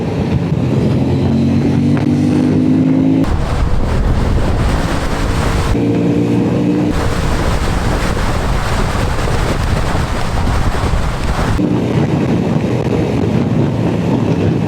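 A Honda Transalp 750 motorcycle accelerates hard, a loud roaring engine drone rising through gears with heavy wind rush buffeting the microphone, steady and close throughout.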